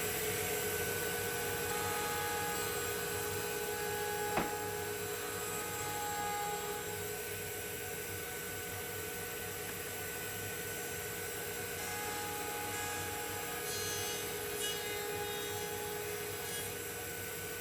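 Steady whine of a router table cutter running continuously, with one sharp tick partway through and a faint rasp of wood as a very light pass trims the end to clean up tear-out.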